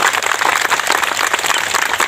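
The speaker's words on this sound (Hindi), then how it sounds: "एक बार ताली बजा दीजिए जोर से" An audience at a devotional bhajan gathering claps loudly and continuously, a dense, steady round of applause without voices.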